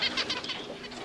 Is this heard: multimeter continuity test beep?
no